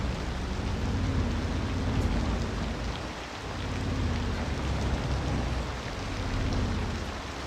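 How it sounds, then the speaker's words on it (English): Pouring rain in the city-building game Sleepy Skylines: a steady, dense hiss of heavy rainfall that swells and eases slightly throughout, with no voices. "I like how it's just pouring rain and nobody seems to care"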